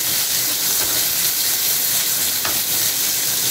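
Two small onions frying lightly in a pan, giving a loud, even hissing sizzle with soft crackle throughout and one faint tap of a utensil, near and without speech.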